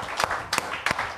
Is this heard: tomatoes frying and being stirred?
no